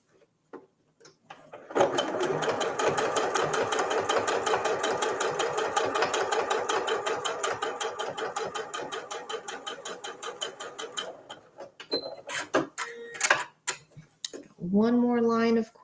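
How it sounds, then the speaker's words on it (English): A sewing machine quilts through the front layer of a microwavable fabric mug cozy. Steady rapid stitching runs for about nine seconds, then stops, followed by a few brief handling clicks and a short stretch of talk at the end. "So I'm only quilting through the front layer."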